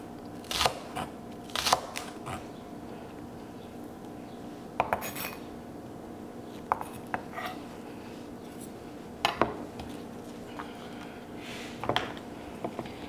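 Knife chopping green onions in a home kitchen: sparse, irregular sharp knocks and clicks of a blade on a cutting board, about seven distinct hits spread over a quiet background hum.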